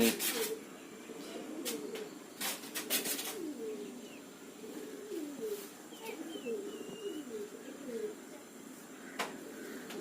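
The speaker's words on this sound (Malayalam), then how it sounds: "പ്രാവ് പറക്കുന്നുണ്ട്." Pigeons coo steadily in soft, rolling low phrases during a flying-training session, with a few sharp clicks and knocks early on and faint ambient noise behind.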